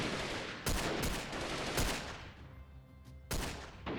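Gunfire in Freeman Guerrilla Warfare rings out as several sharp, loud shots spaced irregularly, each with a short echoing tail, against an otherwise quiet background.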